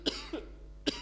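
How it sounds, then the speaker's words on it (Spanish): Two short, dry coughs about a second apart from a man with a lingering flu cough, close and quiet against a low steady hum. "me quedó todavía la tos de la gripe"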